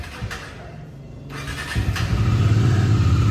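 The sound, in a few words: motorcycle engine idling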